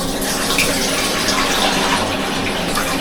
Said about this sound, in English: And I'm just going to run loads of water with it.